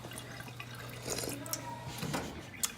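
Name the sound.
running water from a fountain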